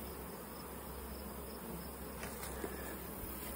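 Dense, steady buzzing of BC honey bees swarming around the hive boxes, a continuous close insect drone with no voices.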